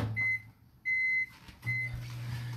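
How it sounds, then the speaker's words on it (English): A microwave oven hums steadily and cycles on and off, loud close rumbling stretches broken by short quiet gaps and a thin high whine, with no talking. "these are only gonna need to go in the microwave for a whopping 3 minutes"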